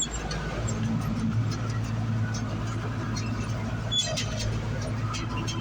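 A Vermeer 605K round baler runs behind a 4240 tractor in a hay field, giving a steady, loud mechanical drone with a low engine hum and faint rattles throughout.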